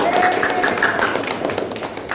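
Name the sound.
applause for group A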